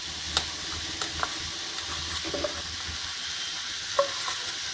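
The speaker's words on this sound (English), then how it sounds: "We will mix it well" Diced tomatoes and boiled red kidney beans (rajma) stirred together in a pan as a sandwich stuffing, a quiet continuous sizzle with a few light spoon scrapes and taps against the pan; close, no voices.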